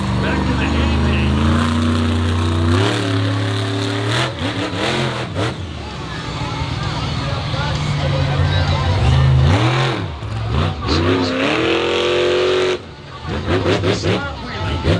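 Monster truck at a dirt track show in Charlotte, NC, its big engine revving hard and rising in pitch through a snap wheelie, loud and close, with an announcer talking over the roar.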